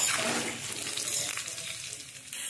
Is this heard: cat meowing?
no